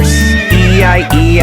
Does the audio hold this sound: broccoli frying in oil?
no